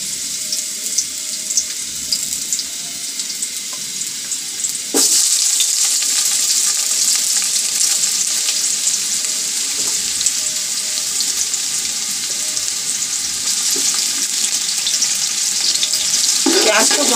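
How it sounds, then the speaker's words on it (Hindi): Sliced onions frying in about two cups of hot oil until brown for yakhni pulao, a loud continuous hiss and sizzle that jumps louder partway through and holds steady, with no talking. "प्याज को ब्राउन करेंगे"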